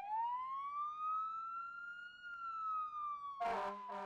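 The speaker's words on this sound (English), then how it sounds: "The firefighters don't usually turn the siren on until they get down the street a bit." A fire engine siren wails in a long, slow rising and falling sweep, heard clearly from a moderate distance across a residential street, before a louder burst of broadband noise from the passing heavy vehicle cuts in at the end.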